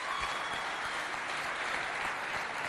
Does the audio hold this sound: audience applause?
yes